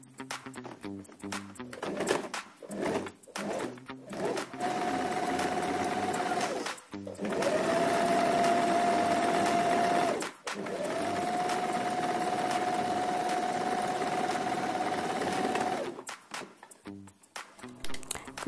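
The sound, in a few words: sewing machine stitching a fabric strap for an instant hijab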